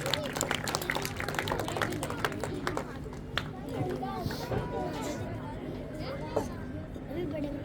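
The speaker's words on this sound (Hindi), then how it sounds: "जोरदार तालियों के साथ श्वेता जी का समर्थन करिए" Audience applause at a school's 76th Republic Day celebration at Holy Christ Public School: a dense patter of clapping, strongest early on, mixed with crowd chatter and an announcer's voice.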